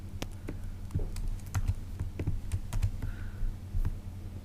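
Someone types on a computer keyboard while building a WordPress website page, with rapid irregular key clicks and taps, close and moderately loud, alone without talking.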